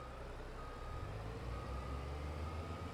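A dump truck in the Farming Simulator video game idles with a steady low engine drone, a faint, regular reversing beep just audible above the rumble.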